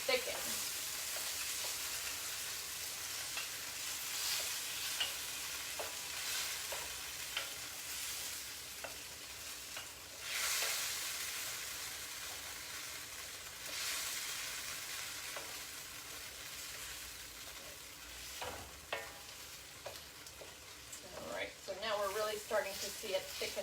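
Shrimp stir fry with soy sauce sizzles steadily in a wok on high heat, with a stirring utensil scraping and tossing the food in irregular bursts; the crackling hiss stays close and fairly loud, and a person talks over it.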